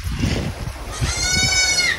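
Goats bleat close by on a farm battered by a typhoon, several overlapping wavering cries over a low rumble of wind and farm noise.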